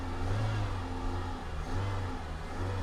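A Dacia Sandero with an Alcantara and leather interior accelerates, heard from inside as a steady mid-pitched engine drone that swells in waves, with no talk.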